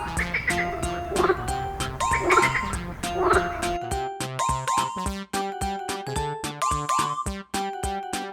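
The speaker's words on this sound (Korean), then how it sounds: "frog," A frog croaks in rhythmic pulses, in short repeated bursts over a steady musical backing, loud and near, without talk.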